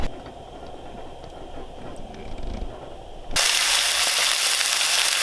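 Chicken pieces frying in extra virgin olive oil in a pan, a steady loud broadband sizzle that jumps sharply louder midway as more meat hits the hot oil, continuing without talk.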